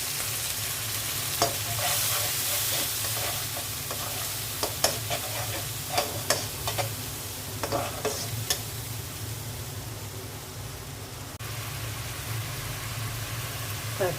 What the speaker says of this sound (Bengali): অল্প করে একটু পানি দিয়ে দিচ্ছি।